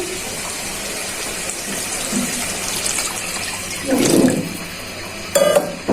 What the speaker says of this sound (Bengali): এখন ঝোল দিয়ে দিচ্ছি